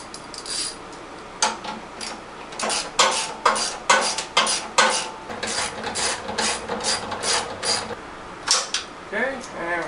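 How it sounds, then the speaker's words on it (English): Bolts being fitted and tightened with a ratchet while assembling a wood chipper, with repeated bursts of sharp ratcheting clicks and metallic clinks, close by, and occasional talk between them. "Now I'll put the remaining 3 bolts in."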